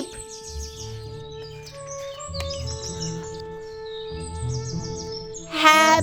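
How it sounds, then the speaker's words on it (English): A cartoon baby chick's cheeping sound effect plays from a Peppa Pig sound book, bright electronic tweets over a background jingle, ending in a louder burst of rapid chirps. "I've a fluffy yellow head and some straw for my bed. And I jump up and down singing cheep,"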